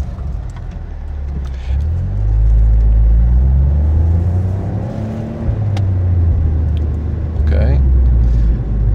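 A Smart fortwo Brabus, 71 hp, accelerates hard out of a roundabout toward a motorway toll booth, its engine rising in pitch through gears with a loud close rumble and brief dips between shifts.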